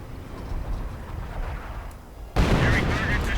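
Artillery barrage in a real-time strategy war game, a continuous rumbling bombardment that bursts abruptly louder partway through, with several muffled blasts layered over a low roar.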